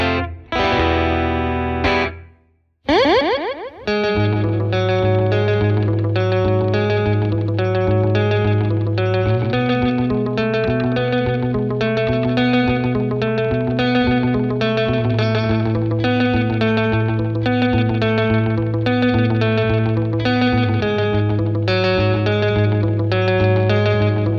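An electric guitar plays clean through a 1968 Fender Custom Pro Reverb amp with the pedal bypassed. A few opening strums are followed by a steady run of bright picked chords and notes with sustained low tones, loud and close.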